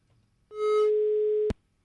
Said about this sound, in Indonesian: Aduh, terputus lagi Siwa